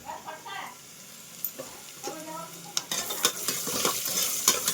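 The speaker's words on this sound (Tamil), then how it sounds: "வெங்காயம் வந்து இந்த அளவுக்கு வதங்கிடுச்சு." Onions sauté in a pan while a utensil stirs and scrapes them for mushroom biryani, with clattering metallic strokes over a soft sizzle that grows busier toward the end and no speech.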